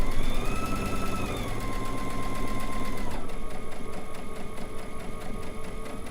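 A sewing machine stitching through quilt fabric over magic pins runs with a steady, fast mechanical whir and rhythmic needle chatter, shifting pitch slightly as its speed changes partway through.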